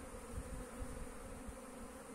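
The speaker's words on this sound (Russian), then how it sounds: "Весна началась, пчелки проснулись," Honey bees hum steadily around hives at a spring apiary, a soft continuous buzz close by with no voices.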